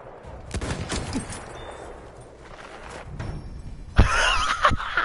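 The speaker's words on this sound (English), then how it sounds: "I sniped Shadow twice" Sniper rifle shots ring out in Battlefield 1 during busy wartime combat, scattered cracks early on and a louder, sharper report near the end amid constant battlefield noise, with faint voices in the mix.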